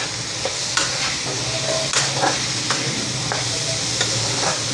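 Tomatoes fry in a pan over raised heat for a tomato chutney with turmeric, giving a continuous sizzle marked by periodic spatula scrapes and clinks, close and clear, with no voices.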